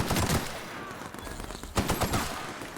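Gunfire rattles in a firefight in The Outer Worlds video game, rapid bursts of shots crackling close and loud in clusters, with a brief lull in the middle.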